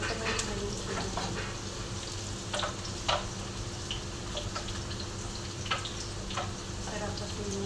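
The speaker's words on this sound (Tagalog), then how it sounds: "hintayin na lang natin na medyo mag-brown yung sibuyas" Onions frying in a pan for sardines with egg, a steady soft sizzle with small pops and crackles throughout, close by and fairly quiet, with no one talking.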